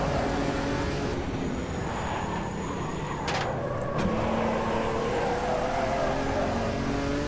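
A Chevrolet Omega race car engine in Automobilista 2 drones steadily at speed, its pitch shifting slightly through gear changes, with a constant loud roar and no talk over it.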